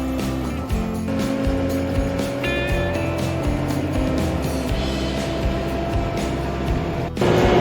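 A tractor engine drones steadily as the machine crawls along at about one mile per hour, a continuous close-up mechanical rumble with a whine that rises slightly, plus a brief dip near the end.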